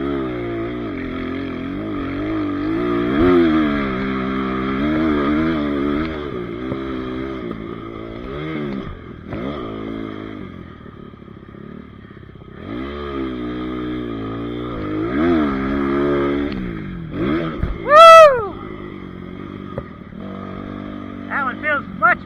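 A Kayo K-6 R dirt bike fitted with a 300cc kit lugs in fourth gear, its engine droning and rising with throttle changes throughout, with a rider talking over it and a sharp high whine near the end.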